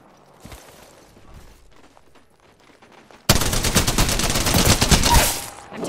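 Shooter video game gunfire breaks out abruptly after a quiet start, then continues as loud, dense automatic bursts to the end.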